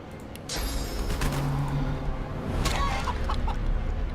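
A chicken clucks in Divinity Original Sin 2, with steady game ambience and scattered effects around it, the clucking fairly clear and mid-distance.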